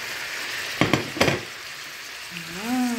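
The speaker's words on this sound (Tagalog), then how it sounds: "ilagay na natin yung pinakuluan ko ng suka, yung shrimps" Vinegar-boiled shrimp going into a hot pan of oil, a loud steady sizzle and frying crackle with two sharp bursts of spattering as they land, and a brief voice near the end.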